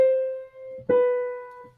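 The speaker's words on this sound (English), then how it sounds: "So for example, Bach has his own motif." The BACH musical motif is played as pure sustained notes: a clear held tone, a brief gap, then a second note attacks and rings out before fading, heard alone and fairly loud.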